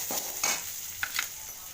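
Onion and green chili are sautéed in a pan: quiet spoon scrapes and stirring knocks over a soft, steady sizzle.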